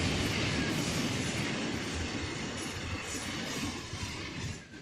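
An intermodal freight train rolls past on the San Bernardino line in the Run 8 train simulator game, a steady rumbling roar with wheel clatter and faint squeals that gradually eases off.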